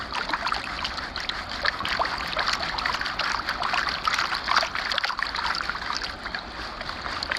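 Water swirls and sloshes side to side in a gold pan while prospecting at a gold claim, making a continuous close trickling, splashing wash with no talking.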